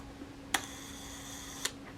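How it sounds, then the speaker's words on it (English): Two crisp mechanical clicks from a Kodak Retina I leaf shutter set to 1 second, opening and closing about a second apart, close and isolated against a quiet room hum. "Let's set the shutter to B, cock it, that works nicely. Let's set it to 1 second."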